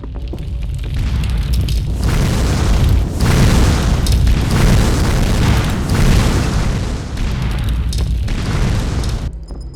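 Fireball explosions from a video game fire off in a rapid series, each a deep booming burst with crackling fire, some nearer and louder, others more muffled and distant.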